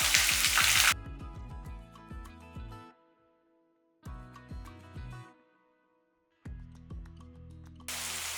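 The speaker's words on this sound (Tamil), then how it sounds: "ஒரே ஒரு வெங்காயம் பெரிய வெங்காயம் அதையும் கட் பண்ணி போட்டுக்கலாம்" Sliced onion frying in oil with cumin and curry leaves in a pan for a bitter gourd fry, giving close, crackling sizzle in several bursts separated by near-silent pauses.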